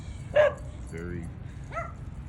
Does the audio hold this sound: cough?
no